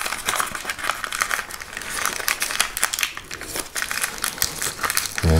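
Paper wrapping is folded in at the ends of Civil War revolver cartridge bundles, giving close, busy crinkling and crumpling in irregular bursts that run through the whole stretch, with a low thump at the end.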